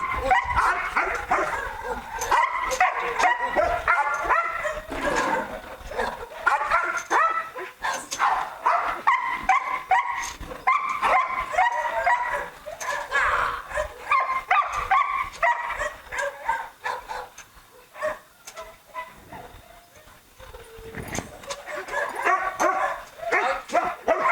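Trained Malinois guard dogs on a farm bark in rapid, loud bursts with yips and whimpers mixed in, barely pausing, with one brief lull before the barking picks up again.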